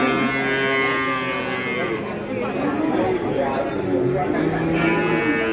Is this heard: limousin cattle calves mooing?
yes